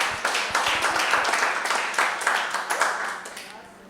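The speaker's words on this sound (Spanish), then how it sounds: "dáselo con vida, el aplauso." A church congregation bursts into applause during a Spanish-language service, with dense, steady clapping that fills about four seconds before tapering slightly at the end.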